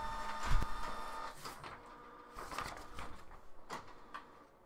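A printer prints a page sent from Samsung DeX, making a quiet, mechanical whirring with intermittent clicks and a soft thump at the start, heard alone at close range.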